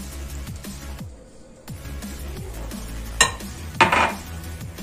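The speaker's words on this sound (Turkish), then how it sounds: "Çırpmaya başlıyorum." Revani cake batter being whisked in a bowl, with steady rhythmic stirring, a few clinks of the whisk against the bowl and a sharper clatter near the end.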